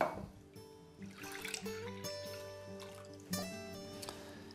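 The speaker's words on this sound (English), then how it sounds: "Pour all these into a pot." Cream and full-fat milk pour into a pot with a soft, steady trickle and splash, close by, among faint kitchen clatter.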